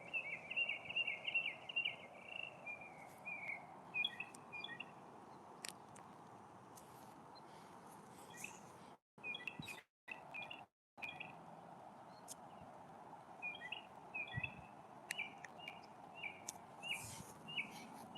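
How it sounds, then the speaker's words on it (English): Birds chirp in a graveyard, with repeated bright twittering phrases that come and go over a steady low outdoor rumble, moderately distant, with a few brief dropouts. "Look at them birds."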